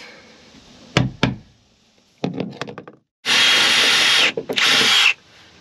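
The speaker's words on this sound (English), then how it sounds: "Okay, got the hole drilled." A power drill bores a hole for a trolling motor plug, with a few short knocks and bursts at first, then two long, loud whirring runs of drilling close by, separated by a brief pause.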